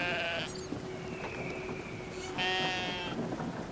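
Sheep bleating in the video game Brothers, two drawn-out wavering bleats close by over a grainy rain-like background hiss, with no talk.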